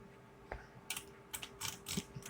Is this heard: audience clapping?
no